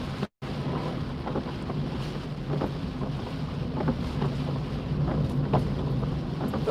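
A car pushes through deep flood water on a road during Storm Francis, with a steady broadband rush of water and wind-like noise that stays loud and continuous, interrupted by one brief dropout near the start.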